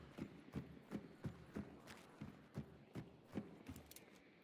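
Horse hooves clip-clop in a steady walking rhythm in a video game, about two beats per second, faint and distant against a quiet ambient background.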